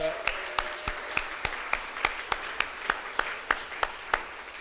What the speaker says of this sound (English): Please join me in another round of applause for the winners, award recipients